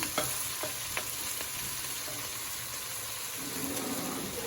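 Chicken pieces for Kerala-style chilli chicken fry in hot oil with a steady, close sizzle, and a few sharp clinks of stirring cut in near the start.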